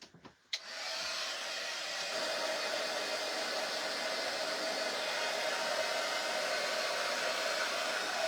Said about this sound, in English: We're going to give this a really good dry. Now, my Ranger one still works. This one just gets hotter and dries faster.